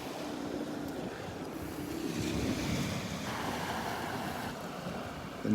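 Ocean surf washes up onto a sandy beach at Delnor-Wiggins with a continuous rushing swash, mixed with wind buffeting the microphone.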